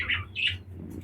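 Lotan pigeon giving two short, faint squawking calls close by in a quiet space, followed by a soft low murmur.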